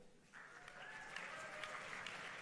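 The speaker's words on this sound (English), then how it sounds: "And now let me hear your applause for Professor Tom van Woensel" Audience applause at a 2017 graduation ceremony for a professor and his master's students, a soft, distant wash of clapping that starts after a brief quiet moment and keeps on evenly, with faint tonal sounds through it.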